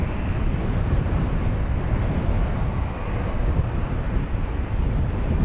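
A Cathay Pacific Airbus A350-1000 departs Dallas Fort Worth Airport at night, its jet engines giving a continuous, dense roar mixed with wind buffeting the microphone, steady throughout.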